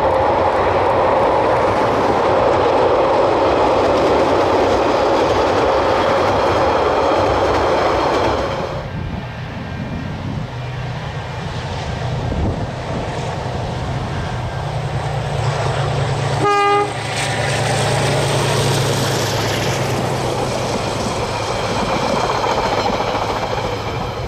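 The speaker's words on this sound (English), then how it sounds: "the train speeds across the Selwyn River" A train roars past at speed crossing the Selwyn River in New Zealand, a loud rushing rumble of wheels and carriages with a short horn blast midway as the noise slowly shifts.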